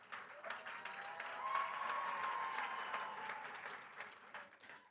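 Audience applause at the opening ceremony of a national science and technology exhibition, swelling to a full round of clapping, then tapering off over a few seconds.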